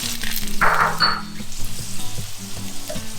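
Gnocchi with halved cherry tomatoes, capers and garlic sizzles steadily in a pan, with a few soft stirring scrapes partway through. The sizzle is close and continuous.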